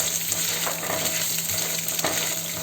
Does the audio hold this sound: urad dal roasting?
yes